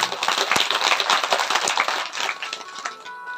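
Audience clapping during a Shiv Mahapuran katha gathering, a dense, fairly loud patter of hands with sharper individual claps standing out, steady for a few seconds.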